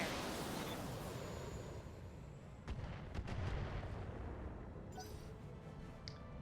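LRM missiles launch from a mech in a video game as a rumbling barrage of low booms and bursts at moderate distance, with a few sharper cracks in the middle and later on.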